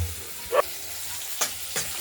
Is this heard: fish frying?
yes